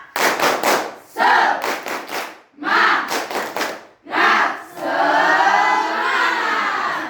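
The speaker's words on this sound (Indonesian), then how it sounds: "Mulai tepuk semangat." Participants at a counseling training session doing a rhythmic spirit clap, several bursts of patterned group clapping followed by a loud cheer, close and energetic.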